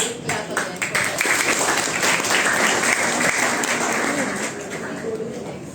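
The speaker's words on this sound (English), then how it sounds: "so big clap for them for that." Students and audience clap for presenters at a school suicide prevention session, a steady, moderately loud round of applause with voices mixed in, tapering slightly toward the end.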